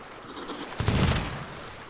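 Gunfire in the Sea of Thieves pirate game during a night boat battle: a burst of several overlapping shots around the middle, moderately loud, with a low rumble that fades out.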